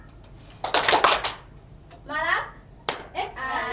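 Classroom clapping game with students, a loud burst of several quick claps, a short pause, then more uneven clapping with a teacher's voice speaking between rounds.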